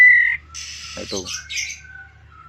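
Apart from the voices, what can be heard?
male white-rumped shama chick calling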